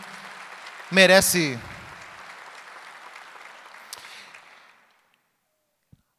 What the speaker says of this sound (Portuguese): Vamos dar uma salva de palmas a esse grande homem de Deus?